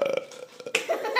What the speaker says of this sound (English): Did you belch?